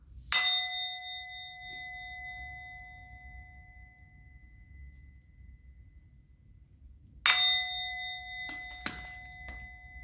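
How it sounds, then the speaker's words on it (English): A bell struck twice, each strike a bright ringing clang that hangs and fades slowly over several seconds, with a couple of small knocks after the second strike in a quiet room. "I'm going to ring the bell."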